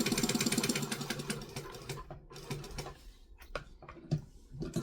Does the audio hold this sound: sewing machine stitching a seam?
yes